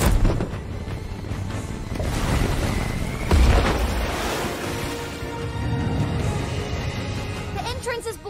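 A cartoon rescue aircraft releases a water drop onto a junkyard fire: a loud, churning wash of rushing water and booming impacts, swelling around the middle, under music and busy action sound.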